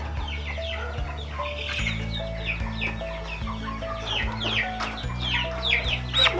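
A turkey gobbles and clucks in quick, chattering bursts over a steady low hum, fairly close and continuous throughout.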